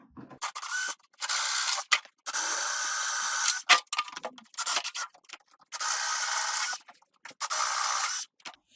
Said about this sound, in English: we're going to use the 13/32 bit to accommodate the 3/8-inch bolt.